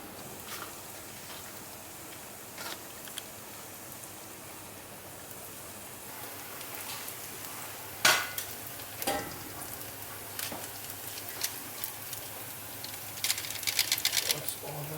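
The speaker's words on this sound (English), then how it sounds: "I'm going to start pouring the rice in" Rice for chicken biryani pours into a pot and is stirred, giving a soft grainy hiss with scattered taps and scrapes and a few sharper clinks toward the end, fairly quiet and without talk.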